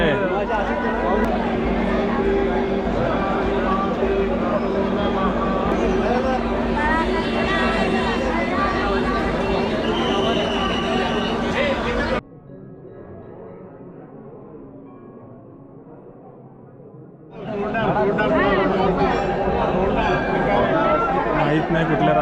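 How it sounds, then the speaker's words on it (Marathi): Dense crowd chatter fills the grounds of the Bharadi Devi jatra at Anganewadi in Konkan, a loud continuous babble of many voices close around, briefly dropping away in the middle before surging back. "भरपूर गर्दी आहे."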